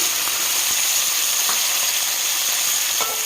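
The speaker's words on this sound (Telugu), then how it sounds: "పెద్ద ఉసిరికాయలు ఉన్నాయి కదా అవి కూడా వేసుకొని అవన్నీ కొంచెం వేయించుకోవాలి దీంట్లోనే టమాటా ముక్కలు" Amla gooseberries and tomato pieces frying in a pan hiss and sizzle steadily, a loud even crackle with a few faint taps of a utensil against the pan.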